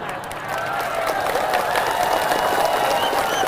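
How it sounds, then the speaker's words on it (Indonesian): A crowded audience at an Islamic sermon breaks into applause, a dense, steady wash of many hands clapping that swells in after a brief moment and carries on loudly to the end. "Banyak yang tepuk tangan, tak jadilah."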